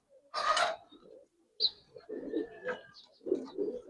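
Giribaz pigeons coo nearby in short, separate throaty bursts with gaps between them, fairly close and moderately loud.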